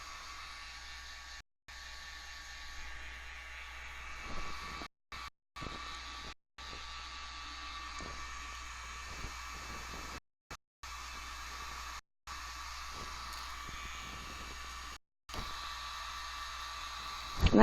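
A heat gun blowing hot air onto plastic, a steady whooshing hiss held for a long stretch, close and moderately loud, with brief gaps and no talk.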